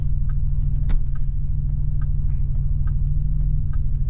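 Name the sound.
1986 Buick Regal T-Type turbocharged V6 engine running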